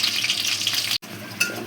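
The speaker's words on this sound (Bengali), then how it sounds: "পেঁয়াজটা আমার ভাজা হয়ে গেছে হালকা।" Chopped onion fries in hot oil with a bright, steady sizzle up close; the hiss cuts out for an instant near the middle, then resumes with a sharp burst.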